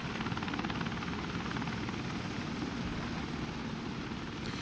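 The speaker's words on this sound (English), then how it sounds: "There's not really much point in this game giving chase to a heli if they fly away" A helicopter in the game WARDOGS drones with a steady, moderately loud rotor whir and engine hum, fairly even throughout with no voices.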